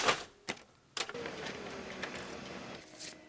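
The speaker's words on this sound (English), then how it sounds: "I'm going to go put this in my printer." A desktop printer printing a sheet of 30 shipping labels for an Amazon FBA shipment, with a few sharp clicks and clacks followed by a steady whirring and mechanical chatter of paper feeding, heard close and moderately quiet.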